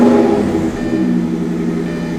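A Lamborghini engine cranks and catches, a loud, steady mechanical drone close by with no voices over it.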